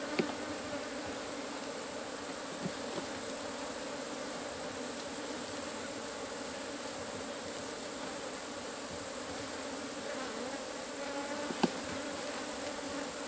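Apis honey bees massed on a hive frame make a loud, dense, continuous buzzing drone, close and unbroken, with a few faint knocks from handling the frame.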